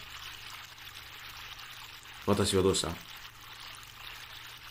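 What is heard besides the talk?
flowing river water in the horror video game Yurikago no Yume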